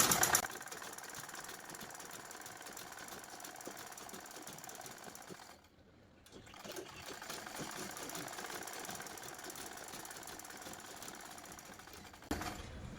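A sewing machine stitches a blouse border with a steady mechanical whir that runs on continuously, pausing briefly midway before resuming.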